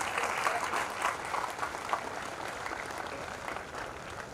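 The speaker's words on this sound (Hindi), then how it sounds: "एक बार तालियां वालियां बजा दीजिए" An audience at a Hindi comedy poetry gathering applauds, a soft, even patter of many hands heard from a distance that carries on steadily without pause and with no talk.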